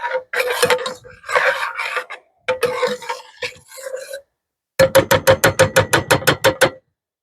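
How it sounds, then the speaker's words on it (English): A spoon stirs ingredients for giouvetsi in a metal camping pot, first in irregular scraping bursts, then a fast, rhythmic run of about a dozen close clanks against the sides. "Mix that up."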